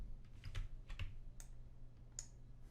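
Computer keyboard keys pressed while editing audio in Pro Tools: a handful of separate soft clicks at irregular intervals, close and fairly quiet, with no talking.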